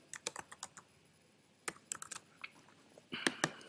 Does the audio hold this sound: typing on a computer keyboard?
yes